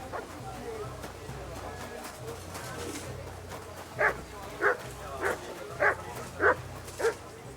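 A dog in Kingdom Come: Deliverance II barks six times in a steady rhythm, fairly close and loud over a low background murmur of game ambience.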